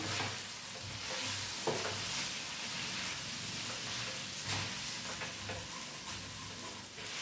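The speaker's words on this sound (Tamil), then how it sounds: "இப்போ எல்லாம் அப்படியே ஒன்றா மிக்ஸ் பண்ணிக்கலாம்" Chicken frying in a pan while being stirred and turned, a steady close sizzle with scraping stir strokes throughout and no talking.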